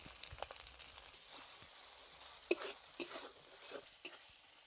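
A ground paste of cumin, coriander and chilli with a little turmeric fries quietly in a pan, its soft steady sizzle broken by a few sharper scraping stirs toward the end.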